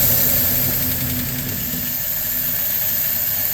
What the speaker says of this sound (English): So there we are at idle, with the choke almost open. Not too bad. Pretty smooth running engine, pretty quiet.